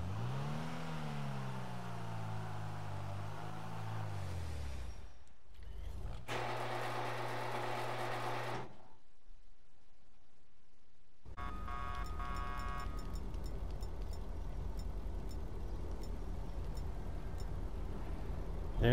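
An Ocelot Ardent car in GTA 5 with a super transmission, its engine whirring and rising as it revs. After a sudden cut it comes back as a steady, droning drive, loud and close.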